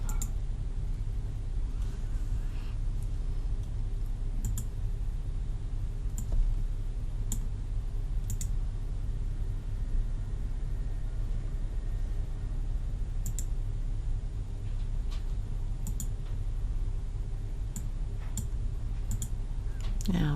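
A computer mouse clicks sparsely and quietly, with single sharp clicks spaced irregularly over a low, steady background hum and no talking.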